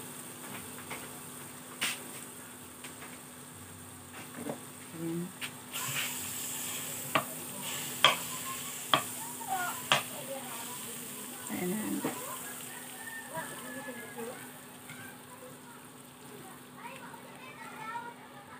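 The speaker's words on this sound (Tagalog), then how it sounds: "Alright, guys, mainit na siya. Ilagay na natin ang ating butter." Butter sizzles in a hot pan for carbonara pasta, a steady low hiss running under the whole stretch with a few sharp clicks and clatters of utensils; a voice is faintly heard in the background.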